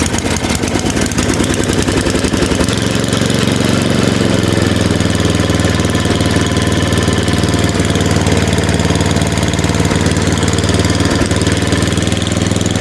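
A Tecumseh snowblower engine, just fitted with an electric starter, runs steadily at close range, loud and continuous with a rough, knocking idle that holds throughout, no talking.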